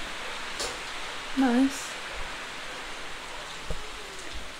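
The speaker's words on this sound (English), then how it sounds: "I can feel the rain here" Heavy rain pours down steadily in the Amazon rainforest near Puerto Maldonado, Peru, a dense, even hiss close around, with a brief spoken word over it.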